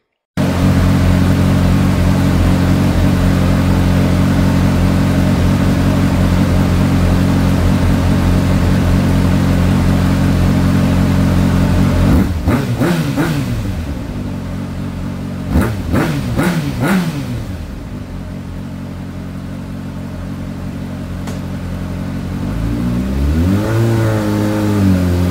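A Honda CB600F Hornet motorcycle runs on a dyno, its inline-four engine held at a high, loud, steady rev before dropping and blipping through several sharp throttle rises and falls, then climbing again.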